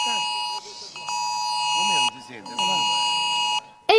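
IT-Alert public emergency test tone ringing at the same moment on many mobile phones in a market in Catania, Sicily: loud, steady, piercing electronic alarm bursts separated by short gaps.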